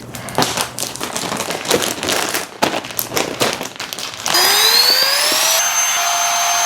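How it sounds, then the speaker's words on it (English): A handheld vacuum sealer used to compress packed travel clothing for a carry-on bag, starting with rustling and crinkling of bags, then a loud steady motor whine that rises in pitch as the air is drawn out, close and continuous. "I got one of these vacuum sealers."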